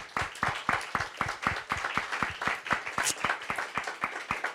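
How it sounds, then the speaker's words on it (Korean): A church congregation at a revival meeting claps together in a steady, even rhythm, a long train of sharp, evenly spaced claps. "우리 한 박수로 하나님께 영광 올리겠습니다."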